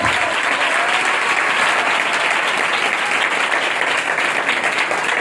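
Steady, loud clapping from a large church congregation in Pakistan, sustained evenly for several seconds with no voices above it.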